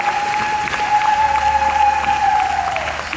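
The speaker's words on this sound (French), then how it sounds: "acclamons pour la gloire du Seigneur" Applause from a congregation at a church memorial tribute, given in praise of the Lord. It is a steady, dense wash of clapping that lasts the whole time, with a sustained ringing tone held over it.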